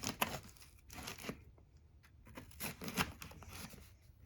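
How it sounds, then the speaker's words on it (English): Scissors slice and tear open a package, giving several bursts of crisp ripping and crinkling packaging with short quiet gaps between them, close and fairly soft. "So I decided to use a pair of scissors instead."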